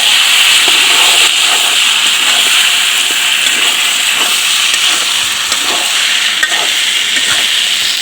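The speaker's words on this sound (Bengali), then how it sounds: "তেলটা আমার গরম হয়ে গেছে, এখন আমি বটগুলা দিয়ে দিতেছি" Beef tripe frying in hot oil, a loud, continuous sizzling hiss close by with faint scraping stirs now and then.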